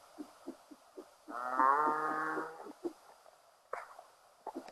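A cow lets out one long, loud moo in the middle of the video game Frontier Heroes while cattle are lassoed, surrounded by soft clicks and brief thuds of game sounds.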